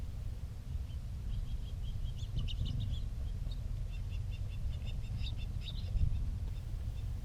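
Faint, scattered bird chirps flicker over a steady low rumble of outdoor background noise, coming in small bursts across the stretch.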